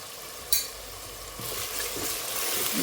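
Spice paste frying in a pan for a fish and cauliflower curry, a spoon knocking once then stirring through a steady, growing sizzle.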